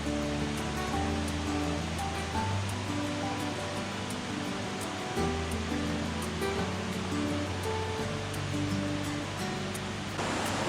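A river flowing steadily, with a continuous broad wash of moving water that stays level throughout, under a layer of sustained tonal sounds.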